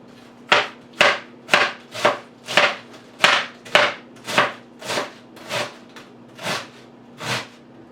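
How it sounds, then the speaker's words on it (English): Knife shredding a big cabbage on a board, about a dozen crisp, evenly spaced chopping strokes in a steady rhythm, close and clear with no talk. "And then I will shred the cabbage, not thinly, not thickly."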